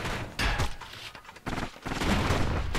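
Weapon fire and booms from the Bastion video game, loud dense bursts broken by short pauses, with the action cutting in and out over a few seconds.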